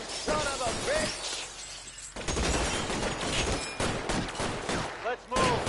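Gunfire bursts from the video game L.A. Noire crackle in repeated volleys, with a loud continuous stretch in the middle and brief shouted voices around the shots.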